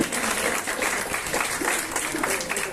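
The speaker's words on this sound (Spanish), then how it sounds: "Va a recibir con fuerte aplauso a la profesora María" An audience at an academic panel on autonomous learning applauds a professor being introduced: a short burst of lively, dense clapping with some crowd murmur mixed in.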